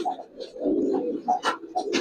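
Pigeon coos from a female Giribaz pigeon kept in a home loft, a few soft rolling calls close by with other birds faintly around, no talk.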